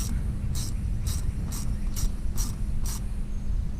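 A ratchet turns a bolt while a short ram intake goes into a 2001 Honda Accord, giving seven evenly spaced sharp clicks over a steady low background rumble.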